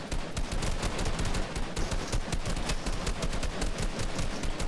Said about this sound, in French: On se fait canarder dans tous les sens.